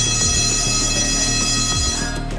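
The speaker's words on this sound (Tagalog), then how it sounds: "kapag narinig ang itinalagang alarm o signal" An electronic alarm drones steadily and loudly, its tone warbling in a repeating pattern for the whole stretch, with no voices.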